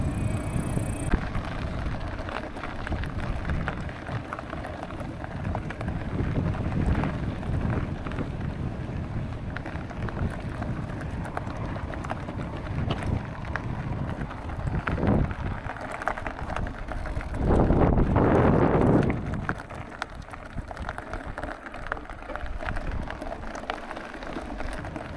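Wind rushing past a microphone during a mountain bike ride in Austria, a continuous close roar and rustle over about twenty-five seconds, with one louder gust near the end.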